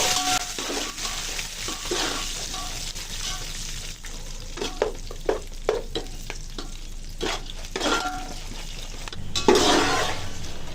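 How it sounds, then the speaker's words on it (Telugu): Dried red chillies and curry leaves fry in hot oil for a puffed-rice masala snack, giving a steady crackling sizzle broken by a run of sharp stirring scrapes, close and fairly loud, with no voices. "ఈ కరివేపాకు కూడా క్రిస్పీగా అయిపోయినాయండి, అన్నీ వేగిపోయాయి"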